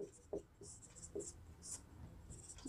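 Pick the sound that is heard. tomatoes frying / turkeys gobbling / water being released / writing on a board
writing on a board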